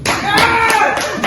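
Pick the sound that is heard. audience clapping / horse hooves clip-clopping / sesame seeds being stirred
audience clapping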